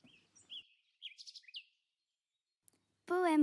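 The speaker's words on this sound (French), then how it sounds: "Chant du rouge-gorge, le monde, un instant, s'arrête de vieillir." Robin song in short high thin phrases and trills, several brief bursts spread over a few seconds, fairly close and clear, followed by a voice speaking.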